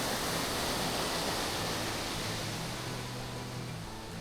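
Monsoon waterfall at Kondeshwar Temple, water dropping in two tiers, a steady broadband rushing roar heard from close by without break, fading slightly toward the end.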